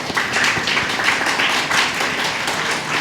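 Audience applause following a talk or presentation: a dense, steady wash of many hands clapping at close to moderate range, sustained at even loudness throughout with no voices on top.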